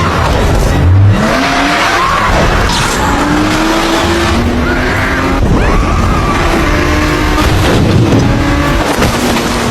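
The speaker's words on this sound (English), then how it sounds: "They sped away in a car," A car speeds off with tires screeching and skidding, loud engine revving and rising whines over several seconds of fast, chaotic driving.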